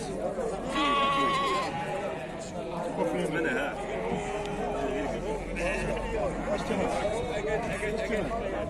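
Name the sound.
sheep bleating at weekly livestock market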